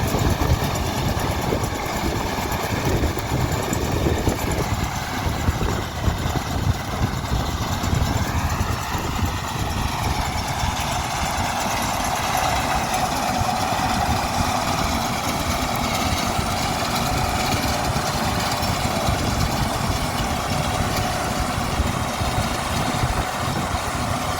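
A Case 2388 combine harvester threshing soybeans drones steadily with a rattling, churning mechanical roar throughout, close by and unchanging, on a cold windy day.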